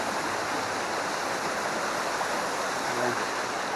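Steady broadband rush of a flowing river running beside the path, constant and fairly close, with no speech over it.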